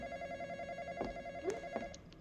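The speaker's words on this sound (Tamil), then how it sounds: "யாரோ ஃபோன் அடிக்கிறாங்க கைஸ்." A phone rings faintly indoors with a steady electronic tone, broken by a few soft knocks and clatters nearby.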